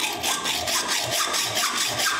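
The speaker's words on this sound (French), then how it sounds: "Après avoir coupé les vis plus courtes" Screws are cut shorter by hand in a woodworking shop, a rhythmic back-and-forth rasp of about ten quick strokes, close and steady.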